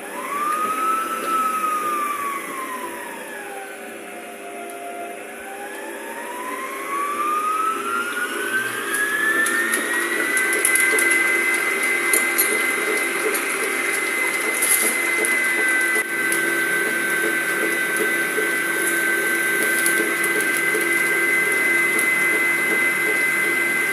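A stand mixer beats eggs with salt, vanilla sugar and sugar, a loud steady motor whine that dips and then climbs in pitch before holding at a high, constant speed.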